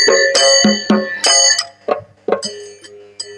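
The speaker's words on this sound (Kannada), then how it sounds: "ಬಾಜು ಇರುವ ಬೆಲ್ ಬಟನ್ ಟನ್ ಅಂತ ಬಾರಿಸ್ರಿ" Bright bell dings and clangs ring out in a quick irregular series as a subscribe-button sound effect, loud and close with short decaying tails.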